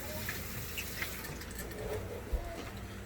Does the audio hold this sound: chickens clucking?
no